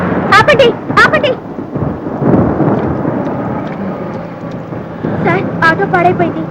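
Heavy rain pours with deep rumbling thunder rolling through, loud and continuous, while voices shout and talk over the downpour at the start and end.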